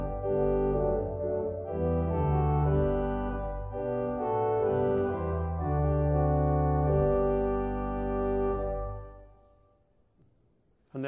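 A Viscount Envoy 35-F digital church organ sounds its first open diapason 8-foot stop, round and mellow, with sustained chords that shift over about nine seconds before releasing into near silence.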